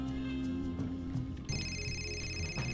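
A telephone rings in the video game Fahrenheit, a steady electronic ring cutting in partway through over background game music.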